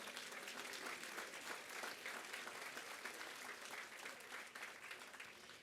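Audience applause at a Yom HaShoah commemoration ceremony, steady, dense clapping from a large crowd that holds evenly for several seconds at a fair distance.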